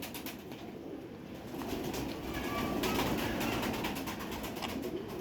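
Pigeons coo softly amid a steady wind-like rush of noise, with occasional faint flutters, and no voices.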